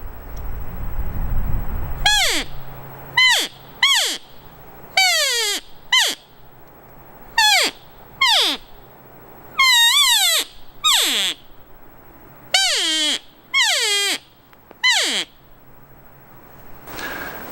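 A mini mouth elk cow call blown in a series of about a dozen short, nasal, descending mews, each under a second, separated by brief pauses, clear and fairly close, imitating a younger elk cow.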